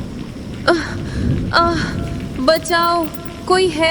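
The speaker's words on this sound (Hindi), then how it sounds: "चौथी रात तेज बारिश हो रही थी।" Heavy rain as a sound effect in a horror story forms a steady wash of noise beneath a frightened voice calling out in short pleading phrases.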